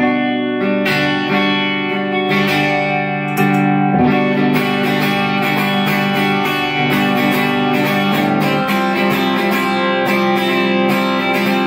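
An electric guitar played through a dry Marshall amp with no flanger rings out in sustained, layered chords with dense harmonics, loud and continuous for about twelve seconds, with no voices.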